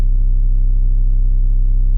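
A sine bass tone pitched in tune for a hip-hop beat, a deep, loud sustained hum with a gentle pulsing edge, held steady for around two seconds before stopping sharply.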